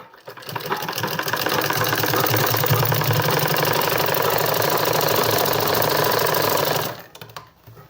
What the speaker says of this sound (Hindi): यहाँ से इस पर एक सिलाई लगा देंगे,